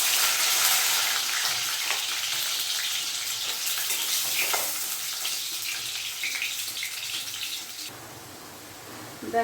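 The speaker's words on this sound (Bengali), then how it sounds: "এবার আমি সবার প্রথমে আলুটাকে ভেজে নেব" Potato fries in hot oil in a pan, a loud steady hiss and crackle that gradually softens and thins toward the end.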